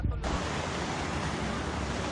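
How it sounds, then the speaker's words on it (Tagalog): Strong floodwater rushes through a river at First Riverside, Barangay Palao, Iligan, during flooding, a dense continuous roar that is loud and close from start to finish. "Malakas na ragasari ng tubig ang sumalubong sa mga residente sa First Riverside, Barangay Palao."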